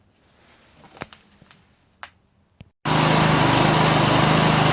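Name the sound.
Craftsman LT1000 lawn tractor engine running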